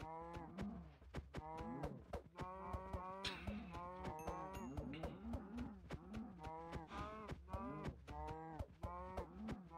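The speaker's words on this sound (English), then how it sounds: "There are so many cows in here, I can't actually kill any of them because they keep respawning." Many cows mooing in Minecraft FTB OceanBlock: dense, overlapping moos repeat steadily in a crowded chorus alongside rapid sharp clicks, with no talking.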